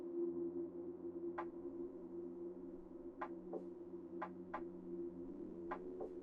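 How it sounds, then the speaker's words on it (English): Short electronic beeps in a Morse code-like pattern from the Reverse 1999 video game, six sharp tones spread irregularly over a steady low hum, clear and unaccompanied by talk. "It's like Morse code?"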